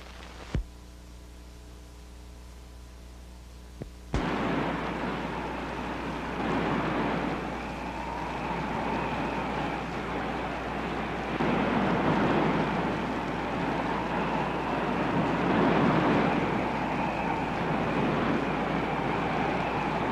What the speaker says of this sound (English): Wind is coming up.